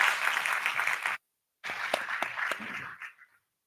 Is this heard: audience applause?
yes